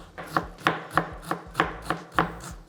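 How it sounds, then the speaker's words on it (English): A medium-sized onion is chopped finely with a knife on a board: about eight crisp, evenly spaced chops, close and clear, with no talking. "So I finally chop in one medium-sized onion, and I cut this as fine as possible."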